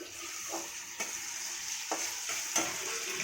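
Onions and green chillies frying in a pan, a close continuous sizzle with four or five distinct stirring scrapes at irregular intervals, with no voices.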